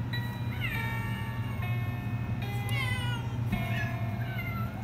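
A cat meows close by about four times in a row, with drawn-out, sliding cries over a low background hum.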